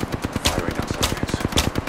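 Rapid automatic gunfire in a video game, a loud, steady stream of sharp shots at an even fast rhythm, with no talking over it.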